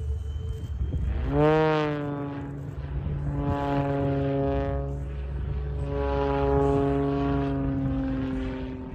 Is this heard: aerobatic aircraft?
yes